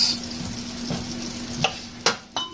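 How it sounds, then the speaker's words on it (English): Butter melting in a pot, with a soft steady sizzle under a faint background hum and a few sharp clinks of utensils near the end. "on my pot I'm going to add my butter. I just added my butter to this pot."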